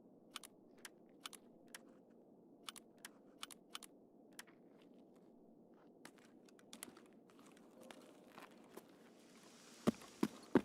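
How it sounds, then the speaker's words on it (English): Shuffling footsteps in the Escape From Tarkov video game, a run of soft, irregular scuffs and taps spaced through a faint low rumble, with a few sharper clicks near the end. "A lot of shuffling."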